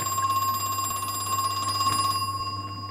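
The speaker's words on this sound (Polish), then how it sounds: "to jest telefon" An in-game telephone rings in the Crow Country horror game, a steady electronic trilling bell that runs for about two seconds and then stops, leaving a low hum.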